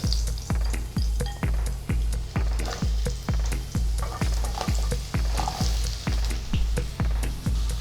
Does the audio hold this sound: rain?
no